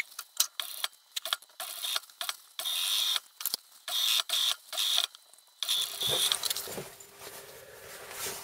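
A sewing machine stitching a collar onto a softshell vest, running in short bursts of rapid mechanical clatter separated by pauses, then fading into quieter handling noises at the end.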